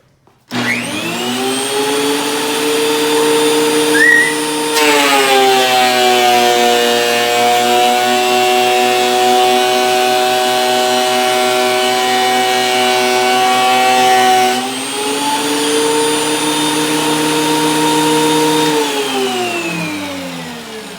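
A Dewalt 12.5-inch thickness planer feeds a board through its cutter head, giving a loud, steady motor whine that deepens and roughens while the wood is being planed, then rises back to free-running speed before spinning down.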